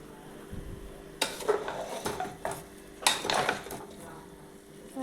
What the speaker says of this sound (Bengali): এটাকে ভালো করে আমি মিশিয়ে দেবো